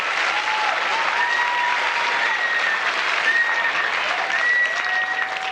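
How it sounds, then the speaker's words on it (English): Audience applause at a live magic show, a steady roar of many hands clapping for several seconds, loud and continuous, with faint tonal whistles or squeals threading through it. "Let's round of applause for Ben over here."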